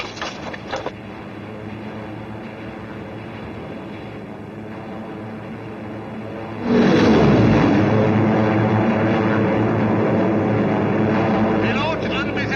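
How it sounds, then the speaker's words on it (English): Anti-aircraft guns open fire aboard a WWII submarine in a war film, a loud sudden roar of sustained gunfire that breaks in after a steady low engine drone and continues to the end. "Anti-aircraft batteries strike target."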